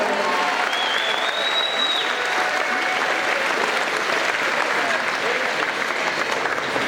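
Sustained applause from a school assembly audience honoring a silver-medal volleyball team, a dense, steady wash of clapping that fills the whole stretch without letup.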